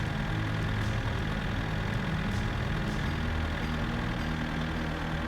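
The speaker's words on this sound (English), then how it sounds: "tractor is especially rough because this bitch is noisy." Tractor engine in the My Summer Car video game runs loud and rough at constantly high RPM, a dense unbroken drone with low rumble throughout.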